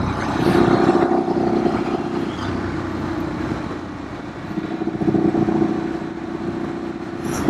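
A Ducati Streetfighter motorcycle engine hums steadily while riding on a road, a continuous droning tone that rises and falls slightly in pitch with no talking over it.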